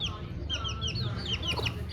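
A hen with three chicks clucks close by in a short run of quick, high chirping calls over a low background murmur.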